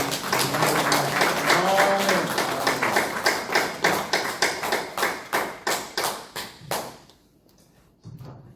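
A congregation applauds in a church during a Sunday worship service, warm dense clapping under a brief voice at first, then settling into a steady rhythmic clap in unison that slows and fades before a short final swell.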